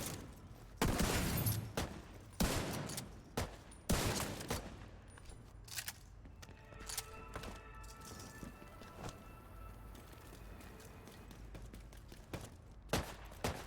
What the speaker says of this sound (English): Why was he shooting in the air?